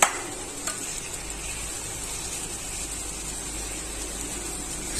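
Beef roasting in spices for nihari gives a steady, quiet sizzle and hiss, close by, with a light knock near the start.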